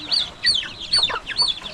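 Native chickens clucking on a farm with several coops, a run of short, close, bright clucks in irregular bursts, with no talk.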